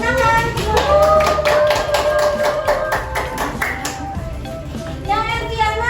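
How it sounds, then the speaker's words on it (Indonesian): Children in a classroom teaching session clapping their hands together in a quick, loud, rhythmic burst, with young voices calling out and sing-song chatter mixed in. "Tepuk tangan."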